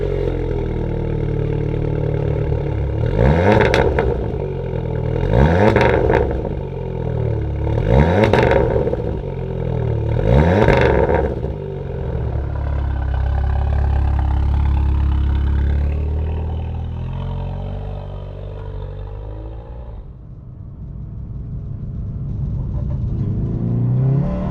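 A Seat Leon Cupra 290 engine revs four times in sharp, evenly spaced blips from idle, then settles back to a steady idle up close, with no one talking.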